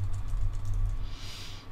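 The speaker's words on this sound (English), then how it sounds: "what you're going to be doing is typing in your topic, whatever it may be, into YouTube" Clicks from a computer keyboard being typed on at a steady pace, close to the mic and alone over a low room hum, ending in a sharper final keystroke.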